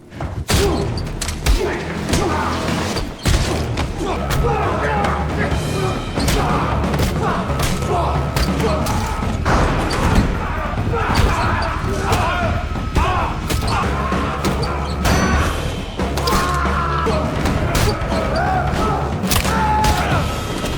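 Heavy thuds, crashes and impacts pile up through a chaotic brawl, loud and close, with grunts and voices mixed under a steady driving din.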